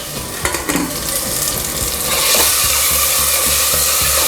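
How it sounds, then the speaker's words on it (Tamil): Masala paste sizzles and crackles steadily in a hot pan for mutton white kurma, a loud, close, continuous fry with occasional stirring scrapes and no talking. "கொஞ்சம் நல்லா ஃப்ரை பண்ணிக்கலாம்."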